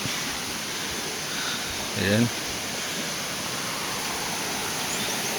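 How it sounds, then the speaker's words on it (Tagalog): Strong current of the Panguil River in a Laguna eco park rushes as a steady, loud broadband roar close by, with a brief spoken word partway through. "malakas yung agos ng tubig."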